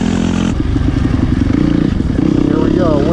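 A Yamaha YZ250FX dirt bike ridden through woods, its engine buzzing loud and close with a steady throbbing pulse and a brief clatter, while a rider talks over it.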